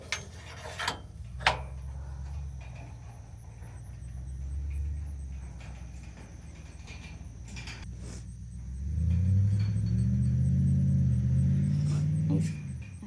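A two-wheel-drive farm truck spins its wheels on grass, a low rumbling engine surge that builds and roars loudly near the end, with scattered knocks and clatter earlier.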